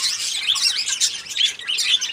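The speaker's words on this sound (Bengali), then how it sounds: "তো গাইস দেখুন আমার এখানে আরো লাভবার্ড আছে।" Caged lovebirds chirp and squawk in a busy, overlapping chatter of high, bright calls, close and lively the whole time.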